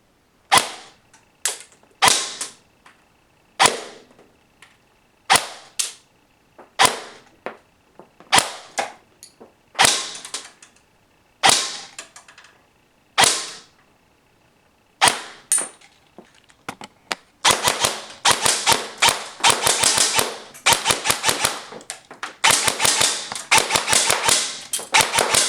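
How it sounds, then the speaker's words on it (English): Airsoft DMR rifle with a V2 gearbox and Chimera MOSFET, shooting over 500 FPS, fires single semi-auto shots at first, sharp close cracks spaced about a second apart, then a fast run of rapid consecutive shots. "I've got this set to shoot semi-automatic only on both semi and full auto because it is a DMR"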